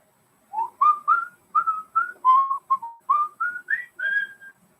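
A melodic tune from a Taco Bell commercial, whistled as a run of about a dozen clear, rising and falling notes in a steady rhythm, close and alone with no talk.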